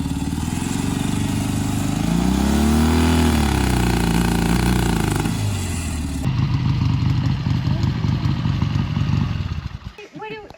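A 1977 Triumph Bonneville 750 motorcycle engine runs loudly nearby, swelling and falling in pitch as it revs, then settling into a rough, chattering idle before cutting off near the end.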